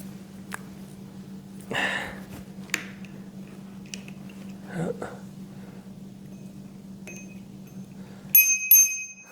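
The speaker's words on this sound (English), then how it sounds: "It's got a little bell on there" A small handlebar bell on a DYU C1 e-bike rings twice in quick succession near the end, bright and close, following quiet handling noises and a steady low hum.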